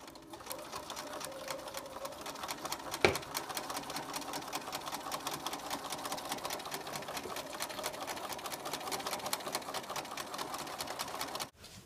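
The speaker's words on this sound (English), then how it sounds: "You're going to sew the rows together by matching the seams at the top and pinning." A sewing machine stitching quilt rows together with a quarter-inch seam, running as a steady fast close-up whir of needle strokes for about eleven seconds before stopping, with a single sharp click early on.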